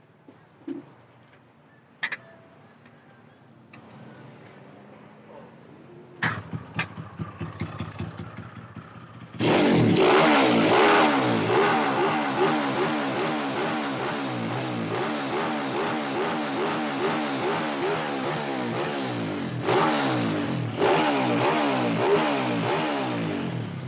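A Honda Wave 125 motorcycle fitted with a TP Speed exhaust stands quiet amid a few clanks, then fires up and idles loudly close by, its engine blipped and revved repeatedly in a pulsing, throaty rhythm.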